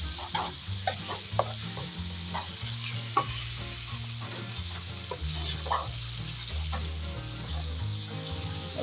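Tomato and onion sautéing in a pan for Kerala chilli chicken, a soft steady sizzle with intermittent stirring scrapes and clinks, with no talk.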